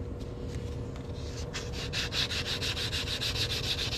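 Rhythmic abrasive rubbing as the cut edge of a quarter coin ring is smoothed, a steady gritty scraping that quickens into rapid regular strokes over a low background hum.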